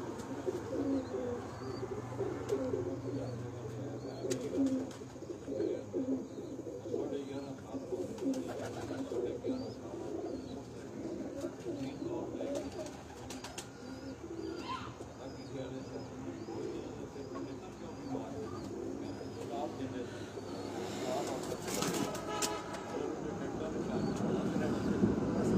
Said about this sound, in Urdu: یہ بودی والا کبوتر ہے جی